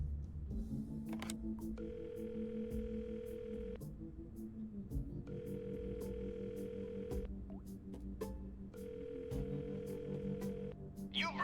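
Touch-tone dialing and ringback tones in a video game, three steady tone bursts repeating at even intervals over a constant low musical or ambient background, with no talk.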